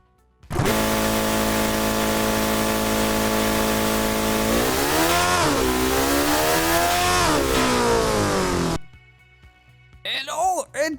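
A simulated supercar from the game Automation runs a fast lap, its engine note loud and continuous, sweeping up and down through gear changes and rising pitch for about eight seconds before cutting off, followed by brief faint sounds.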